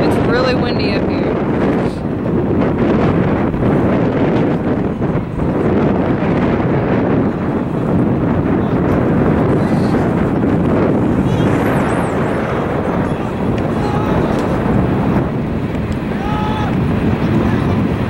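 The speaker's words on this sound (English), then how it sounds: "It's really windy up here." Strong wind buffets the microphone continuously on a high, exposed spot, a loud steady roar with gusting surges throughout, while voices talk faintly underneath.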